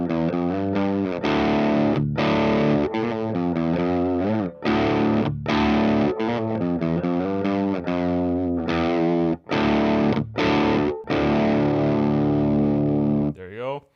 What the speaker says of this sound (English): a little sound test of kind of the overdrive setting more on the pedal